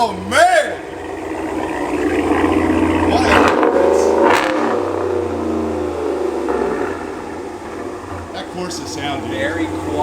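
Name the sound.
2019 Ram 1500 engine revving with Corsa exhaust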